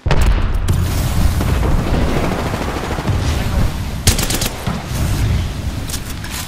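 A frag grenade blast and sustained automatic gunfire in the video game Apex Legends, loud and dense throughout, with a sharp burst of shots near the end.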